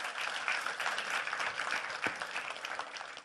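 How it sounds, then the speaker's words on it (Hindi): An audience at an India Today event applauds, a moderate wash of clapping that continues evenly for a few seconds. "उनके लिए तालियां बजनी चाहिए।"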